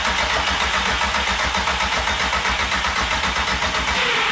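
A Nissan Micra fitted with a 1.8 20V turbo engine cranks steadily without catching, the starter churning in a fast, even, loud rhythm that continues unbroken.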